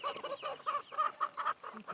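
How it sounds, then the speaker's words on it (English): A chicken clucks in a run of repeated, close, fairly loud clucks with a steady rhythm and short gaps, with no talking over it. "That's a chicken."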